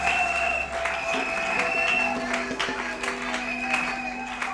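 A church congregation claps and cheers together in a steady wash of applause, with voices mixed into the crowd noise for the full length.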